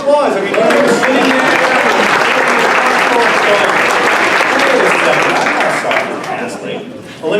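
A crowd at a homeless forum in Colorado Springs gives a Colorado Springs Police Department lieutenant a round of loud, close applause. It runs strong and steady, then thins and tapers off near the end.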